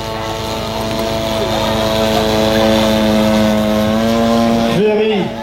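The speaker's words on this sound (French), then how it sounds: "Donc surveillez bien cet avion en vol, et il risque de ne pas vous décevoir." Radio-controlled model airplane, built in 1998, flying at an air show, its engine a loud steady drone with a sustained high whine that shifts pitch as it passes, ending with a brief dip near the close.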